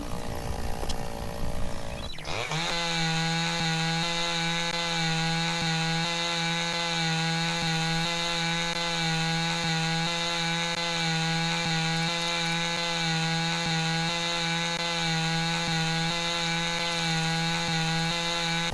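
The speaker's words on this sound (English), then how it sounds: "Now pick up the chainsaw." A chainsaw cuts wood in the video game Lumberjack's Dynasty, starting up sharply after a brief burst of noise and then running as a loud, steady buzzing drone with a faint regular pulse, alone.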